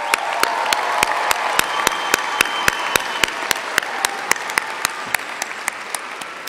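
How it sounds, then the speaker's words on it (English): A university fall commencement crowd of graduates and guests applauds, a steady broad clapping wash punctuated by a regular rhythm of sharp, louder claps close by, continuing unbroken for several seconds. "Give yourselves a round of applause."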